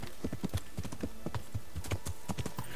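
Horse hooves clip-clop in a steady, close rhythm throughout, with a faint whinny at one point, in the medieval video game Kingdom Come: Deliverance.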